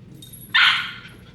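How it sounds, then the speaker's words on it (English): Dogs playing indoors: one short, sharp yip rings out at mid-distance, rising above a quiet room hum before fading. "you are gonna hear some dogs in the background"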